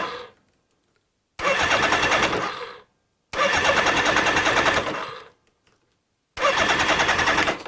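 A Suzuki GS1000 motorcycle engine cranked on the starter button in three loud, close bursts of grinding whir, each lasting one to two seconds and separated by silent pauses, without catching.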